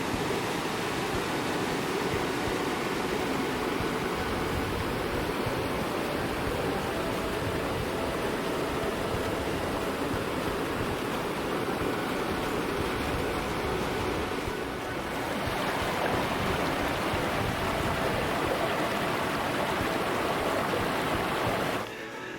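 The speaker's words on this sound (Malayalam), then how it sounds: "ഈ വെള്ളം താഴോട്ട് ചെന്നിട്ട് ഇത് ഫോഴ്സ്ഫുള്ളി താഴോട്ട് ചെന്ന് ചാടുകയാണ്." A monsoon waterfall at Cherrapunji, Meghalaya, plunges about 170–190 metres down sheer rock cliffs into a gorge, making a loud, unbroken, dense roar that fills the whole stretch.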